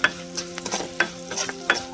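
Tempering for buttermilk rasam sizzles in hot oil, close by, with a spoon clinking against the pan a few times as it is stirred.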